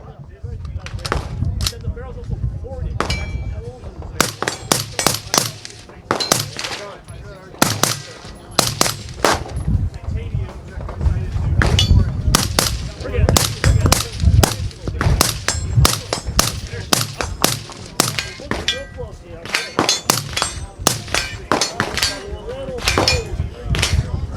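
Rapid strings of suppressed rifle shots at an outdoor shooting range during a trade-show range day, fired loud and close in quick bursts of several rounds, with voices talking in between.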